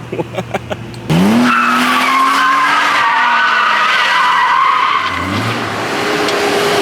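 Car spinning donuts at a sideshow, a loud sustained tire squeal and skid with a roaring engine, rising in pitch and holding steady for several seconds, with a few brief voices at the start.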